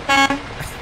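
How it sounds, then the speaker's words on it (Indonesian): A Volvo truck's horn in Euro Truck Simulator 2 gives one short, loud blast, briefly interrupted and then resumed, over a steady engine idle in a garage in Spain. "Kita tes klakson 1."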